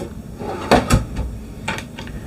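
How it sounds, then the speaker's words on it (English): RV kitchen drawers and cabinets opening and closing, several sharp wooden knocks and slides with two louder bumps near the middle, close and distinct against a quiet interior. "Drawers galore, cabinets."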